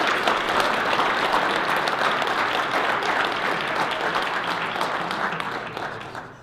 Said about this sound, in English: So how about a nice round of applause for our